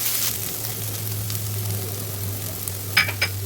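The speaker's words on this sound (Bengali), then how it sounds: "হলুদ মরিচের গুঁড়িটাকে একটু ভালো করে নেড়ে ছেড়ে মিশিয়ে নিলাম, একটু ভাজি করে নিলাম ভালো করে।" Turmeric and chili powder sizzle as they fry with onions, green chilies and onion stalks in a pan, a steady low hiss with a few sharp scraping clicks of stirring near the end.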